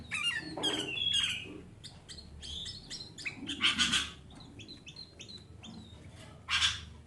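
Cinereous tit and a tame sooty-headed bulbul chirp repeatedly at close range: bursts of sharp, high tweets and short calls, with a few louder clusters over a quiet background.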